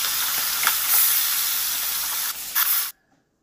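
Small pona fish fry in hot mustard oil while being stirred, a loud, close, continuous sizzling hiss with brief spattering bursts that cuts off abruptly near the end.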